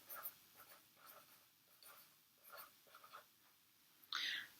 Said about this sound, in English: we're going to take our pencil and we're going to label this section that.